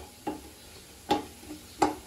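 Garlic chutney being stirred into oil in a pan after the heat is switched off, heard as three brief scraping clatters of a spoon against the pan over a quiet, faint sizzle.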